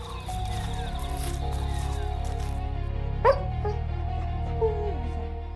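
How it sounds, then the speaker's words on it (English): Barking from a dog-like animal on an open plain in Botswana, a few sharp yelps standing out over continuous rumbling and droning ambience, distant and moderately loud. "Barks echo across the plain until the intruder disappears entirely."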